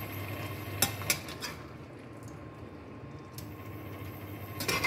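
Chicken adobo being stirred in a pot, a soft continuous scraping and sizzling with a few sharp utensil clinks against the metal, fairly quiet and close, with no talk.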